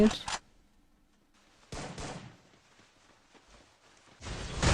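Free Fire video-game gunfire comes in loud, sharp bursts at the start, the middle and the end, separated by quiet gaps with faint game noise.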